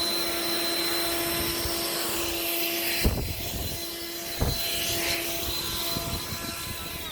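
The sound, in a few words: leaf blower clearing excess off sidewalk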